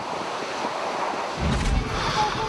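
Strong typhoon wind gusts drive heavy rain, a rushing roar of wind and water that builds suddenly about halfway through into a loud buffeting blast against the microphone.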